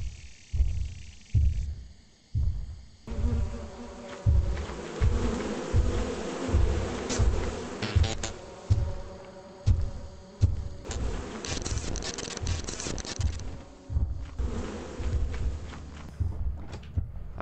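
Bees buzz steadily in the video game Lethal Company, a dense, close drone that swells and dips over many seconds, punctuated by soft rhythmic footstep thuds.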